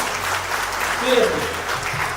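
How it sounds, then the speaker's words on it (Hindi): Seated crowd at a trading-class gurukul session applauds in a steady, close wash of claps, with a voice briefly audible over it. "एक जोरदार तालियां अपने लिए हो जाएगी"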